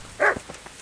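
A dog in the game Kingdom Come: Deliverance makes a single short, close vocal sound, a brief growl or bark that lasts under half a second, with quiet background before and after it.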